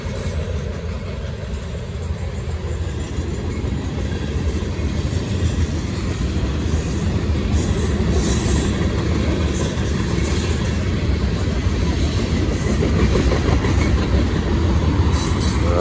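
A Norfolk Southern or CSX freight train rushes past fast and close, a loud, unbroken rolling roar of wheels on rail with high metallic squeal, and nobody speaks.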